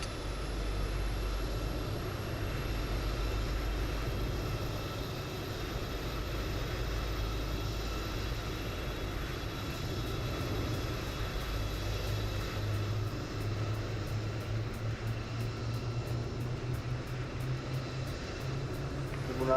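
Jet engines of a PMDG 777F freighter starting up in the MSFS 2020 flight simulator, a steady whining drone with a low rumble that builds and thickens over time, no voices.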